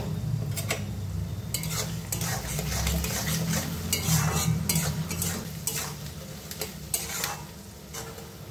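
Thinly sliced onions with a little salt frying in a pan, a continuous close sizzle punctuated by repeated scraping and clinking strokes of a spatula against the metal, no talking.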